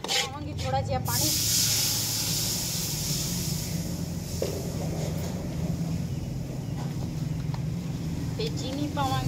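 Water poured into a hot pan of browned, roasted semolina and flour hisses and sizzles loudly, then settles into a steady crackling simmer as someone talks over it.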